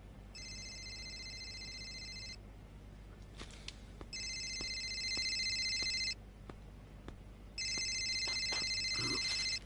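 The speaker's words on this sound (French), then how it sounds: "Téléphone." A telephone rings in three long electronic bursts of about two seconds each, separated by short pauses, moderately loud against a quiet room with faint clicks.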